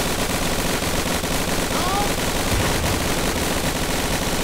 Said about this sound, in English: That's what I call suppressive fire.